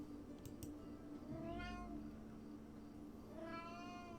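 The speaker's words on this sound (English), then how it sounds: "Meow, meow, meow." A cat meows twice, each call long and drawn out with a rising-then-falling pitch, fairly close, over a steady low indoor hum with no talking.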